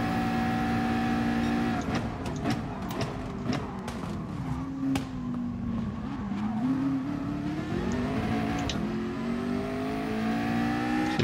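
Race car engines roar continuously in Gran Turismo Sport, a loud steady drone with pitch rising and falling through gear changes and accelerations, several cars close together, with brief sharp clicks and bursts scattered through.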